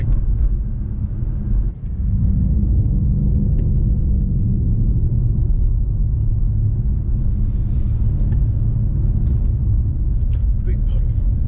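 A BMW M5 Competition driving on a UK road, heard from inside as a heavy, steady low engine and tyre rumble, with a brief dip early on before the drone resumes and continues evenly.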